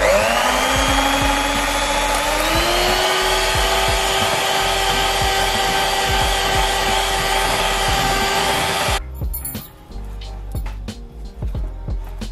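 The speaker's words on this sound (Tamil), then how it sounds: "இதை வந்து நீங்கள் ஒரு 10 மினிட்ஸ் நல்லா அடிக்கணும்." An electric hand mixer whirs steadily as it beats buttercream icing made with icing sugar, milk and rose water, a loud, even motor whine that rises slightly in pitch before cutting out, leaving scattered clatter and handling noises.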